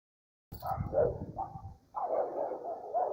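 A pit bull barks in two bursts, a sharp run of loud barks followed by a pause and then a longer, rougher bout, fairly close with no talk.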